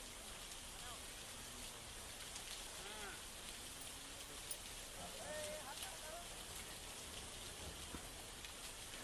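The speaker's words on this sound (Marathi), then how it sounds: "लातूरमध्ये सुद्धा जिल्ह्याला पावसानं झोडपून काढलेलं आहे।" Heavy rain falling across Latur district in Maharashtra, a dense continuous hiss of downpour on surfaces with scattered drops, while a voice speaks faintly in the background.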